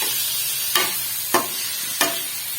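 Chicken frying in a pan for Peshawari Shinwari chicken karahi, a steady sizzle broken by three sharp scraping stirs spaced about half a second apart, close and moderately loud with no talking.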